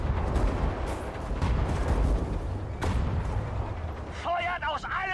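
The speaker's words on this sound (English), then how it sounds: "Feuert aus allen Rohren!" Battlefield artillery in Sudden Strike 5 booms and rumbles in heavy, overlapping blasts with a couple of sharp reports. A voice speaks over the last second.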